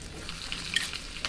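Mustard seeds and cumin, with garlic, fry in half a spoon of hot oil for a tadka, a soft, quiet, continuous crackling sizzle with a few faint pops.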